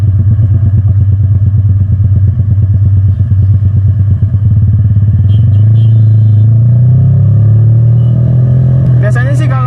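A motorcycle with a modified, backfire-tuned exhaust and a BRT Juken 5 ECU idles loudly and steadily up close, its rumble rising near the end as the throttle opens.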